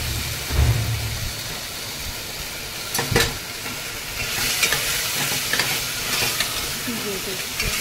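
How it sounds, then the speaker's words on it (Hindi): Lotus stem (kamal kakdi) being stirred into frying masala for a sabzi, a steady close sizzle with scraping spoon strokes and a few sharper clanks, no voices. "इसको अच्छे से मिक्स कर लेना"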